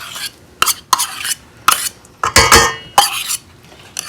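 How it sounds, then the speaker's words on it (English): A whisk beats vanilla pudding mix and canned pumpkin in a bowl, giving loud, close, irregular clinks and scrapes against the bowl's sides, with brief pauses between bursts. "whisk all those together till it's smooth"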